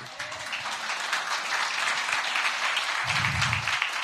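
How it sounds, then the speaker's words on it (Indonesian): A church congregation breaks into steady, moderately loud clapping that holds evenly throughout, with a brief low murmur of a voice near the end. "beri tepuk tangan dulu"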